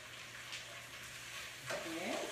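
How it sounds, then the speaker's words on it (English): Food sautés in a pan with a quiet, even sizzle that grows brighter and louder near the end as the pieces get stirred, while a faint low hum runs underneath. "we're sauteing them"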